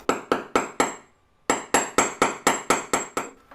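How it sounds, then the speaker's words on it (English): Metal hammer blows strike a copper ring blank: four steady taps, a brief pause, then a run of eight evenly spaced, ringing strikes, each bright and close with a short metallic decay. "I don't want to hammer the ends too much because I don't want the metal to get too thin at the ends."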